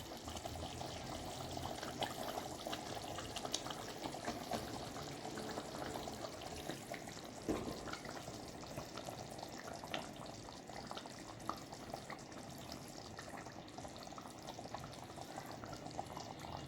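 Vanjaram fish pieces slipping into a simmering Tamil-style fish curry, a steady bubbling, sizzling wash heard close and continuous with no talk.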